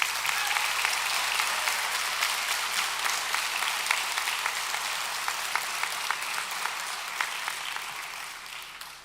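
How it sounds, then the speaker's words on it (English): A large audience at a graduation ceremony for welding, medium heavy truck and automotive technology graduates gives sustained, dense applause for about nine seconds, fading slightly toward the end. "with your applause, let's recognize our graduates"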